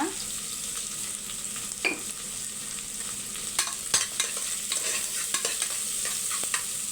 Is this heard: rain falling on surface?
no